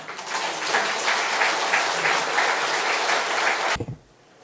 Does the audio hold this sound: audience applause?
yes